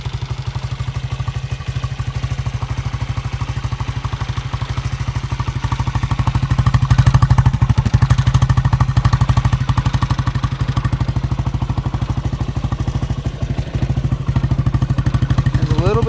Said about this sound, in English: There's a little bit of racket coming from the suspension right here